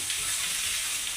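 Oil sizzles steadily in a pan while frying for a Nellore-style fish curry, a continuous bright hiss with no talking.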